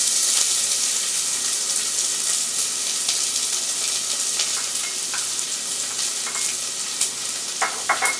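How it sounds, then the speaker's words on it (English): Chopped yellow onions sauté in olive oil in a saucepan, a continuous bright sizzle with occasional stirring clicks and scrapes toward the end, close and alone without speech. "we're going to start sauteing our onions"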